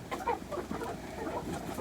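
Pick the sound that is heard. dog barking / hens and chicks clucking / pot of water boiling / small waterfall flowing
hens and chicks clucking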